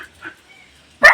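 A dog with one blind eye gives a single sharp bark near the end, nearby and fairly loud, after a quiet stretch with only faint background sounds.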